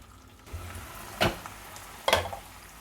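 Asparagus frying in a pan with sauce, a steady low sizzle broken by two sharp bursts of louder spitting as the spears are rolled, close up with no talking.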